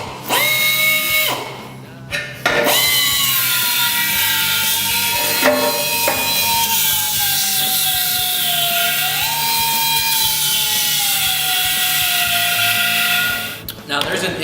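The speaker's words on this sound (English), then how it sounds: "grinding out the interior weld of the filler neck" A grinder cuts down the interior weld inside a brass gas cap filler neck, whining loudly and steadily with a falling pitch as it bites into metal, broken by short pauses near the start and at the end.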